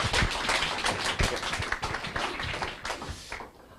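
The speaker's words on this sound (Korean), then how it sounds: "큰 박수로 모시겠습니다" An audience at a company talk claps to welcome a speaker, quick uneven hand claps close by that thin out and stop near the end.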